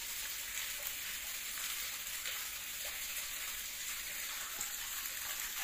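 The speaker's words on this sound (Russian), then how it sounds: "А мы наполняем колодец." Water pours steadily into a well as it is filled, a continuous, even hiss and splash that is faint and unbroken throughout.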